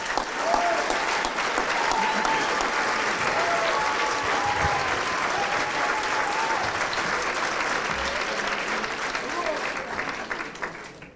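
A concert audience at an acoustic live show breaks into loud, sustained applause lasting about eleven seconds, with scattered cheers and whistles over the clapping before it tapers off at the end.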